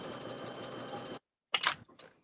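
A home sewing machine stitches cocktail dress pieces together in a steady mechanical run that stops abruptly, followed after a short pause by a few brief clattering taps and clicks.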